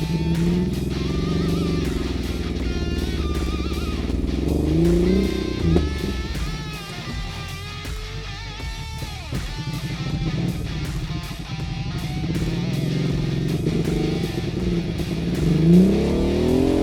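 A motorcycle-powered swamp buggy engine revs and rises in pitch over and over, loud and close, with a steady mid-range drone between the revs and no talking.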